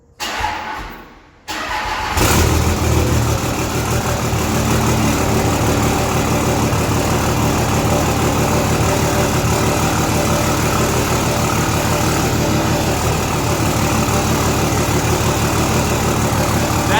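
Cummins diesel hotshot truck engine, already warm, cranking and firing up through a new 5-inch exhaust, a short starter whir followed by a loud, steady rumbling idle, close by, with no talking.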